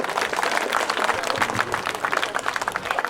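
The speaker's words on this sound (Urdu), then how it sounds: "زوردار تالیاں ماجد دیوبندی صاحب کے لیے" An audience at an Urdu mushaira poetry gathering applauds in a dense, steady wash of clapping that fills the room throughout, loud and continuous with no pauses.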